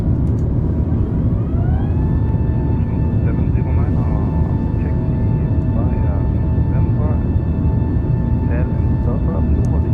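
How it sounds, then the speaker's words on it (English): Airbus A380 with Rolls-Royce engines in Microsoft Flight Simulator spooling up to a steady jet roar with a rising whine that settles into sustained tones, with someone talking over it. "Rev my Rolls Royces."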